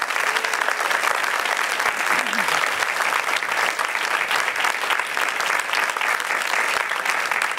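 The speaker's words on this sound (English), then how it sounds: "How about you give your families a big round of applause as well?" A graduation audience gives a big round of applause for the families, dense sustained clapping filling the hall at steady loudness throughout, with faint voices underneath.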